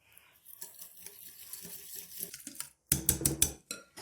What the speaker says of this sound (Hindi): अब ये सारी चीजें हम मिक्स करेंगे।